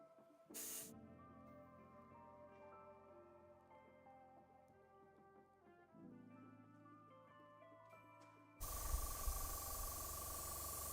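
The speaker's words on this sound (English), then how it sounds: "I do enjoy working with my airbrush every now and then" An airbrush sprays paint onto a Warhammer 40k knight model in two hissing bursts: a brief one near the start and a louder, sustained spray at the end, with tonal background music underneath.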